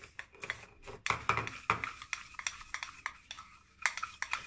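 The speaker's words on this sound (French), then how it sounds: "On va mélanger le tout." A homemade mixture of wood ash and lemon is stirred and scraped in a small container, giving close, irregular rubbing and clinking strokes in quick bursts with short pauses.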